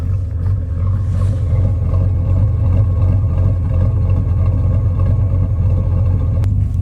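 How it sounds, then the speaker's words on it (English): A Ford Mustang Foxbody with a Coyote V8 idles, its exhaust giving a deep, steady, even rumble that stays loud and close throughout with no revving. "here you can kind of listen to the exhaust."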